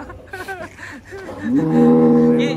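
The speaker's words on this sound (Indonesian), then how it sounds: "Itu sapi kok besar sekali." A very large cow at a cattle yard in Wonosobo gives a loud, drawn-out moo that rises and holds steady near the end, after a few moments of background chatter and shuffling.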